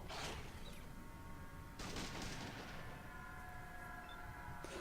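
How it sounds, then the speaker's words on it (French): Bursts of gunfire ring out in Fallout 2, two loud broadband volleys with a short tail of echoing rumble between them and no talk. "Je t'envoie des rafales, toi aussi, hein."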